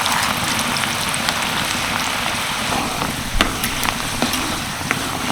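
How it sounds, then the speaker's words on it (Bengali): Lentils fry in plenty of hot oil over medium heat, giving a dense, steady sizzle close by, with scattered sharp pops and crackles as they are stirred. "তো চলো এবার আমি ডালগুলো ভাজতে থাকি"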